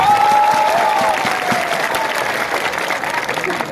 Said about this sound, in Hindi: तो सब बुरुई बोतल के लिए एक ताली मारो तो प्लीज।